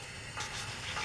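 Garlic cloves fry in a pan, a faint, close sizzle that brightens as they land in the hot oil, with a soft stirring scrape.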